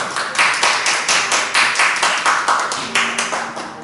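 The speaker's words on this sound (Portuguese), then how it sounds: "Pode aplaudir o Senhor, que Ele merece toda a honra e toda a glória." A church congregation claps in praise of the Lord in a loud, rhythmic unison beat, steady repeated claps close and lively, with a faint sustained tone entering near the end.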